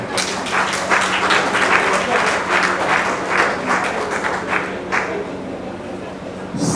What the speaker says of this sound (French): Mais nous pouvons aussi applaudir pour le docteur Songabao.